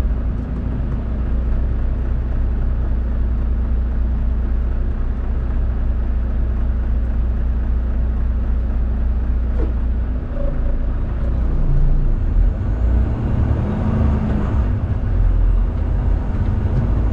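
A car idling and moving ahead at a toll plaza, a steady low engine rumble close by throughout, with a louder surge of motor noise near the end as the vehicle passes.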